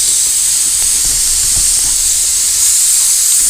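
A loud, continuous roaring hiss of a BRS camping stove burner at full flame, steady and close throughout.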